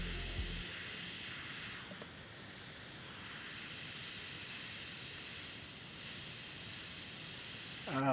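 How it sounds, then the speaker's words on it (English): A steady, close hiss of an airbrush spraying lowrider art paint onto motorcycle saddle bags, continuous and even throughout with no talk over it. "You're gonna start airbrushing."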